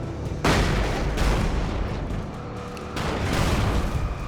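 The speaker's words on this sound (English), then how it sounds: "these flashbangs do not really work on these things" Heavy booming blasts from flashbangs in the video game Alan Wake 2: two loud, dense bursts, one near the start and another about two-thirds through, each rolling into a long rumbling tail over a constant noisy bed.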